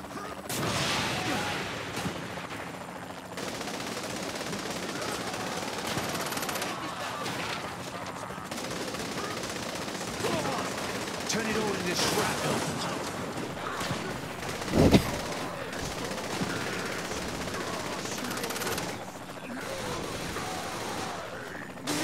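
Gunfire from a handgun in Saints Row: The Third rattles through a busy city street scene, with scattered shots and a sharper crack near the middle amid steady traffic and game noise, with voices talking in places.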